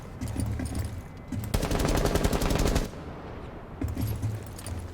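A DMR rifle in the Rainbow Six Siege video game fires a fast, loud string of shots lasting just over a second, preceded and followed by quieter in-game ambience and scattered shots.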